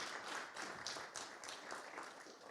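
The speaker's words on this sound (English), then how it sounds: "Applause." Audience applause welcoming the first speaker at a research seminar, a steady wash of clapping at moderate level that holds evenly throughout without voices.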